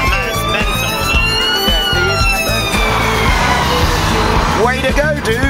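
Ambulance siren on a drive near Snowdon, a loud wailing tone that sweeps up and down, heard from inside a moving car with road rumble and voices talking over it.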